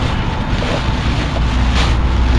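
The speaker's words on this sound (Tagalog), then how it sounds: "Malakas lang hangin kaya dito tayo nagtago sa may semento." Strong wind blowing at the seaside, a steady loud broadband roar with microphone buffeting and a faint wash of waves underneath, with no voices.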